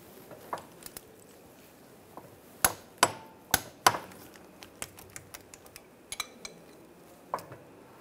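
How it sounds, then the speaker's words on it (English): A torque wrench tightens rear wheel hub bolts and nuts on a 2003-2008 Infiniti FX35 to 52 foot-pounds, giving sharp metallic clicks and taps spaced irregularly, with the loudest cluster of close snaps in the middle. "Now we're going to torque the bolts and nuts to 52 foot-pounds."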